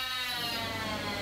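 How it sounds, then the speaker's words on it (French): An electric saw opens a skull during an autopsy, giving a loud, continuous, steady whine that holds without a break. "c'est le son d'une scie électrique"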